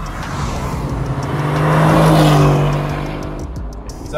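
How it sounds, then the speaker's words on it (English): A 2020 Aston Martin V8 Vantage driving, its engine note swelling to a steady, loud drone mid-clip and then easing back, close by with no talking. "So today we're driving a 2020 Aston Martin V8 Vantage"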